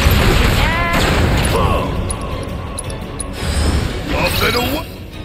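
Barret's gun firing in the video game Final Fantasy 7 Rebirth: dense, rattling bursts of gunfire and impacts amid a busy battle din, with character voices speaking over it.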